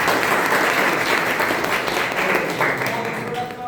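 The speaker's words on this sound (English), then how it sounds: "One clap for Vikram sir." Audience applause for a vice principal at an in-house CBSE school training program, a dense steady wash of many hands clapping throughout, fairly loud and continuous, tapering slightly at the end.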